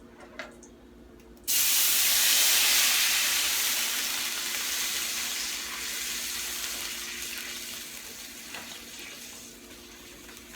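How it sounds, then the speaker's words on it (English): Liquid poured into a hot, shallow pan of rib drippings erupts into a loud, sudden hiss at once, then settles into a steady sizzle that slowly fades over several seconds. "that's what I mean when I say we're going to deglaze the pan"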